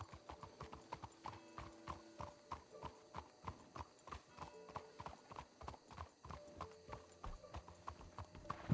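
Video game carriage horse hooves clip-clopping in a steady, even rhythm at moderate distance, with a brief whinny and a faint voice in the background.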